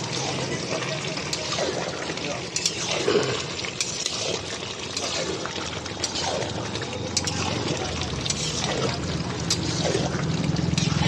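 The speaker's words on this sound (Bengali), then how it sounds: "এবার এটা একটু নেড়ে দেবো।" Fish-head curry with vegetables being stirred in a covered pan, giving a steady simmering, bubbling sizzle with soft scraping throughout, fairly loud and continuous, with a voice talking over it.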